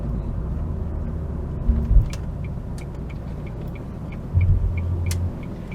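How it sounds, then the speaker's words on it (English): Steady low road rumble and wind noise fill the cabin of a Ford Focus Mk1 Millennium Edition cruising along, with a couple of brief heavier thumps from the road surface. "There is a bit more noise than is perhaps ideal, road and wind"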